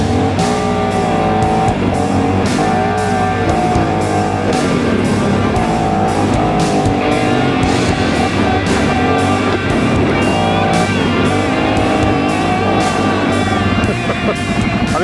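A Segway Snarler AT6 570cc ATV engine runs loud and close, with a constant droning and revving tone that holds steady the whole time, and no speech.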